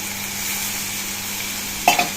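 Green peas frying in a hot pan for batani kurma, a steady close hissing sizzle throughout with a brief louder clatter near the end.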